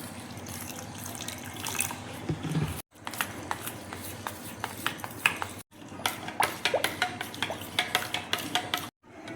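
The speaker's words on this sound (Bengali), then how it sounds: "অল্প অল্প জল দিয়ে দেখো একটা ব্যাটার আমি তৈরি করে নিচ্ছি।" Flour and cornflour batter being mixed by hand with water added bit by bit, a steady wet stirring and slapping with small clinks of a bowl, close and moderately loud.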